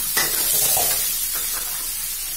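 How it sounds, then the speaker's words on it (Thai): Chopped bird's eye chilies and featherback fish balls stir-fried in a pan, a steady close sizzle with a few brief scraping stirs and no talking. "พริกขี้หนูสับ2ช้อนโต๊ะ ผัดให้หอมแล้วก็ใส่ลูกชิ้นปลากรายของเราลงไปค่ะ"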